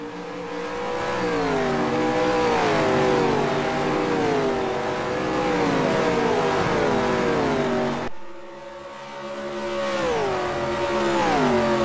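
Race cars run at high speed through a track section in a racing game, engines revving steadily with rising and falling pitch as they shift gears, loud and continuous, with a brief dip before revving up again.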